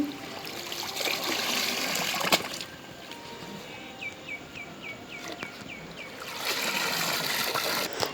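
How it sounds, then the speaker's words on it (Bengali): Taro leaves (kochu shak) are rinsed by hand under running water outdoors, a steady close trickle and splash with faint insect chirps in the background. "দেখতেই পাচ্ছেন আমি অনেক সুন্দর করে ধুয়ে নিচ্ছি"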